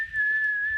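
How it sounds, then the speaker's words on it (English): A person whistles one steady, clear held note at close range, lasting just under a second with no talk over it. "Mom, I'm whistling."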